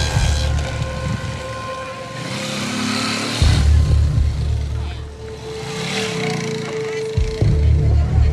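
Motorbikes ride close by with a steady engine drone that rises and falls, loud and near, with wind buffeting the microphone and other engines passing.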